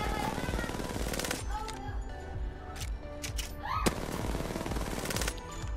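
Automatic gunfire in a shooting video game at a practice range, rapid loud bursts of shots in two long strings separated by a short pause with sparse single shots, close and dominant.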